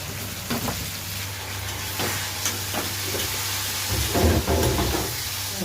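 Chopped potatoes fry in a home pan with a steady, close sizzle and hiss, a low hum running beneath and a few soft stirring clatters near the end; nobody speaks.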